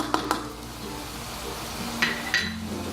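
Spice paste with seasoning and kerisik sizzles softly in hot oil for Singapore laksa lemak, with a few sharp scrapes of a spatula against the pan over a low frying hiss.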